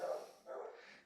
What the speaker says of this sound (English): Can y'all still hear the dogs barking in the background?